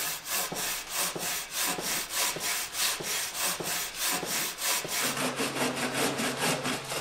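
Hand saw cutting through a block of plaster in steady, rhythmic back-and-forth strokes, loud and close, with the tone shifting slightly near the end as the cut deepens.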